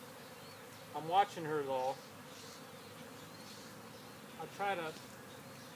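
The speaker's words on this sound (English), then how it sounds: "I find more of the bees on the frames together, and I just open this bottom edge up" Honey bees buzzing during the installation of a five-frame nuc, a low steady hum around the hive under two short bursts of nearby talk.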